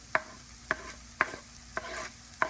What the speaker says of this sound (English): I'll saute for another 2 minutes, and I'll be done.